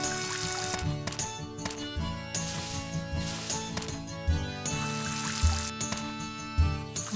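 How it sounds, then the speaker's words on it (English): Watering crops with a watering can in the farming video game Pioneers of Olive Town: a few short splashing pours over busy background music, several soft water bursts at a steady rhythm. "But I need to water these."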